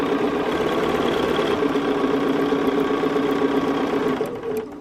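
A Bernina sewing machine runs steadily as quilt pieces are stitched together, a close, continuous whirring hum that eases off at the very end, with no talking.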